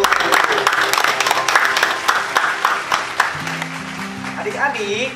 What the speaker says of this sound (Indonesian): Kasih tepuk tangan yang meriah untuk Tuhan